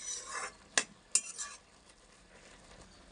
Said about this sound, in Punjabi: ਮਸਾਲੇ ਨੂੰ ਚੰਗੀ ਤਰ੍ਹਾਂ ਕਰ ਦਿੰਨੇ ਆ ਮਿਕਸ ਪਕਾ ਲੈਨੇ